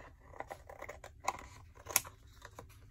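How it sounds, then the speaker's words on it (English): Scissors cutting watercolor paper into journal cards: a quiet run of close, crisp snips and papery scratches, with one sharper cut standing out near the end and no talk. "I have some scissors here."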